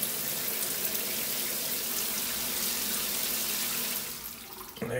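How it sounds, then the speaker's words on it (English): Hot water runs steadily from a Kohler shower tap after a cartridge replacement, a loud, continuous hiss that eases slightly before a brief clatter at the end. "got some hot water now"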